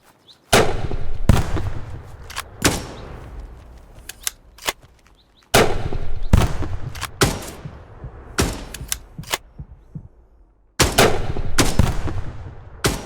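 Grenade launcher rounds fire in a tactical first-person shooter game, with three loud volleys of sharp, closely spaced blasts separated by brief quieter gaps.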